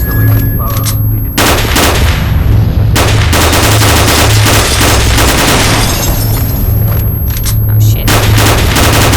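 Heavy sustained gunfire in STALKER: Oblivion Lost, loud rapid bursts and automatic fire with booms, nearly continuous, with a man's brief exclamation over it.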